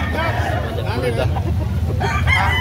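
Chickens and roosters at a poultry sale in Carbon market, Cebu, clucking and calling through a dense bed of crowd chatter, with voices talking close by.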